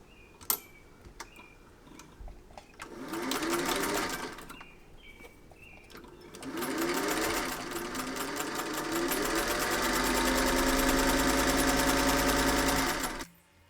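Sewing machine stitching around the brim of a fabric sun hat: a short burst of fast rattling stitches, a pause, then a longer steady run of quick even needle clatter close by.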